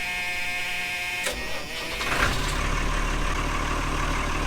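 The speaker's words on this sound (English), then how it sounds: "I want to start this starboard engine again" A trawler's starboard diesel engine starts up in the engine room: a quiet mechanical hum, a sharp click, then the engine catches and settles into a loud, steady low idle.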